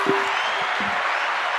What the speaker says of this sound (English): Let's give D-Style a round of applause.